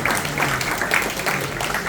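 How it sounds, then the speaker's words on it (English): An audience at a Corsa Del Capo rally event gives a dense, steady round of clapping lasting about two seconds, with a faint voice underneath. "Guys, give us some big round of applause."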